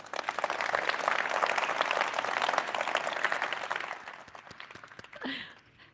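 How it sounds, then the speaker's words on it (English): Applause from an audience at a corporate landmark celebration, a dense steady wash of clapping that holds for about four seconds, then thins and fades, with a brief voice near the end. "Let's give him a round of applause"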